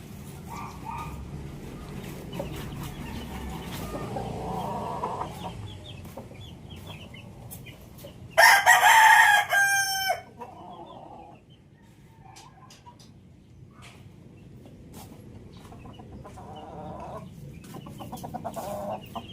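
Boston Roundhead gamefowl roosters cluck and call in a yard. Low clucking runs throughout, and one loud crow bursts out briefly near the middle, close by. No one speaks.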